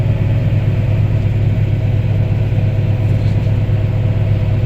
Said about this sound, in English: I ended up pushing it a little bit too hard on the snowblower and bust a shear bolt